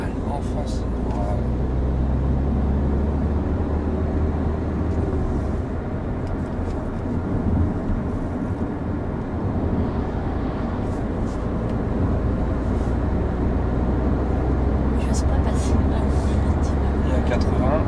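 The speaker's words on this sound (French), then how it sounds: "je te laisse de nouveau rouler à 80 en passant les vitesses" A car drives steadily at around 80 km/h, its engine and road rumble a constant low drone with gear changes blending into the noise, while people talk inside.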